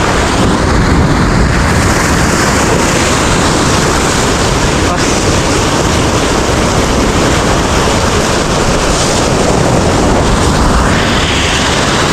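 A big wave rolls and surges at sea around a small boat during nighttime light fishing off Palawan, a loud continuous roar of rushing water and wind buffeting close by.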